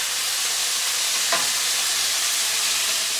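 Chicken meat with egg frying in a pan, a steady sizzle that holds close and even throughout, with one brief stir or scrape midway and no talking.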